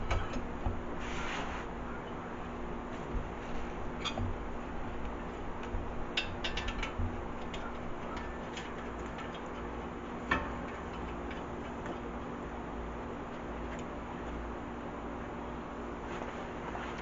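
A hand ratchet cranks down on a Toyota front brake part, giving steady, quiet close-up clicking with a few sharper ticks and knocks, and no voices.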